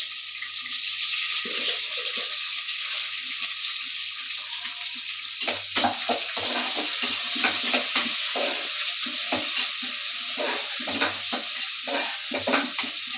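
Onions with salt fry for a mushroom biryani, giving a steady bright sizzle from the pan. Partway through, repeated scraping stir strokes join in, close up and with no talking.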